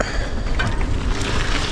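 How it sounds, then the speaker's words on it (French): Steady wind blowing over the microphone while moving outdoors, a dense, constant rushing roar with no pauses and no voices. "qu'est-ce qu'on se prend? Du vent."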